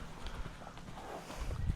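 Hooves of a spirited young horse loping, heard as a soft, steady run of rhythmic thuds at moderate distance with low background noise.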